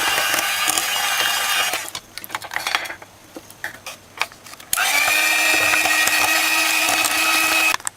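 An electric mixer blends fruit cake batter with almond essence and vanilla, whirring loudly in two long runs separated by a stretch of rattling and clinking.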